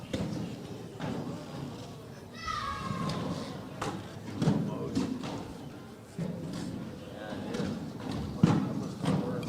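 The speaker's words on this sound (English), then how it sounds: "You still get the rhythm of the boards. Getting thumped on by all these bags" Cornhole bags landing with repeated dull thumps on wooden boards at an outdoor tournament kickoff event, irregular impacts under crowd murmur and commentary voices.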